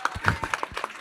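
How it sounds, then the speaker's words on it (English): A conference audience claps for speakers, with a short, sparse patter of individual hand claps that fades quickly. "See who can get the loudest applause."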